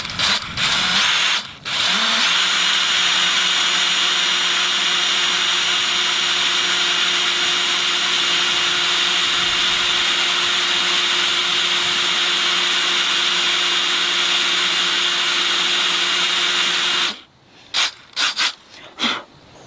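A power drill whines loudly and steadily for a long stretch while drilling metal on a Mercedes-Benz W126 electric window regulator, then stops, followed by a few short bursts and clatters.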